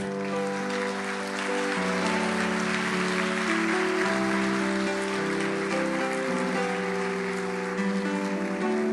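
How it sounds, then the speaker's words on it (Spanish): A church congregation claps together in a steady, sustained wash of applause during a worship service, with held keyboard chords underneath. "Dele un aplauso al Señor."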